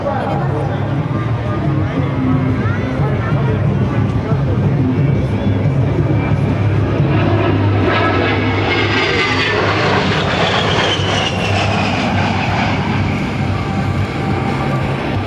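An A-10 Thunderbolt II jet roars through a military open house flight demonstration in 2009, a loud continuous engine rumble and whine that swells as it passes, with a voice speaking over it.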